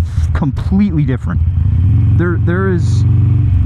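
A dyno-tuned 1275cc Sportster motorcycle engine revs loudly and steadily close by, its low rumble running throughout while someone talks over it.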